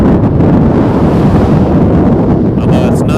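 Strong wind gusts buffet the microphone at an outdoor plane spotting spot beside Toronto Pearson Airport, a loud, continuous rumbling roar filling the whole stretch.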